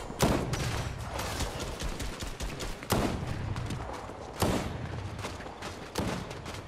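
Pistol-only shooting in a video game match, with sharp single shots spaced a second or two apart, cracking over a dense, noisy bed of continuous game sound and scattered smaller pops.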